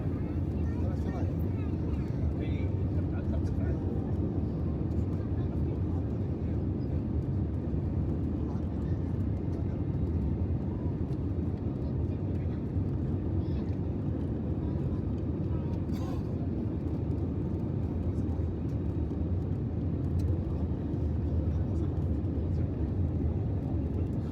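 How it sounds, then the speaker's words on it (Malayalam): A constant, heavy engine roar fills the cabin as an airplane comes in to land in Georgia, a steady rumble with no letup. "നമ്മുടെ ഫ്ലൈറ്റ് ഇപ്പോൾ ജോർജിയയിലേക്ക് ലാൻഡ് ചെയ്യുന്ന ഒരു കാഴ്ചയാണ് നിങ്ങളിപ്പോൾ കാണുന്നത്"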